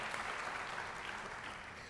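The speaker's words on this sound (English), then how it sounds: "you can clap for that" An audience at a Westminster College convocation claps steadily in an even, continuous wash that eases off slightly toward the end.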